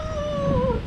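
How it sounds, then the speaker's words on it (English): A dog gives a single drawn-out, wavering howl-whine, fairly close and steady, with no separate barks audible. "These dogs are psycho"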